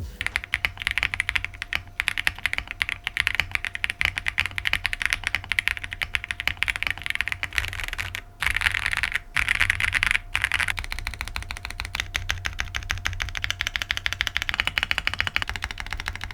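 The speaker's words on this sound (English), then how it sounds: "this keyboard sound really shines is with plate and case foam installed" Someone types on a Zoom65 V2 mechanical keyboard fitted with plate and case foam, producing a fast, continuous stream of deep, muted keystroke clacks close up, with brief pauses between bursts.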